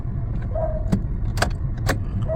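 Gear lever of a Nissan Almera automatic being moved through its positions during a repair of a cracked shifter bushing, giving a few sharp close clicks and knocks over a steady low cabin hum.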